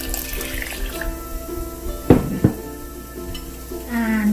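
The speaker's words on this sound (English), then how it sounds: "So now I'm gonna add this water" Water is poured into a pot of keema jhol momo soup in a kitchen, a gushing splash with two sharp bursts midway over a background of steady sizzling and a faint tone.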